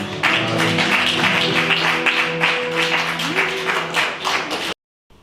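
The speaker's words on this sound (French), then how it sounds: "Applaudissons pour le Seigneur." A church congregation applauds during a worship service: sustained rhythmic clapping, fairly close, with a held musical tone beneath, ending abruptly into silence.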